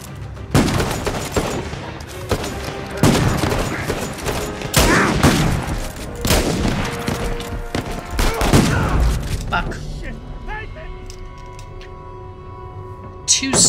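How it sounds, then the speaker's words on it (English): Sniper rifle shots and surrounding gunfire in Uncharted 4, sharp loud cracks and booms scattered through a noisy firefight, with speech in places, ending in quieter game sounds. "Sniper shots in the face, and he fucking survived."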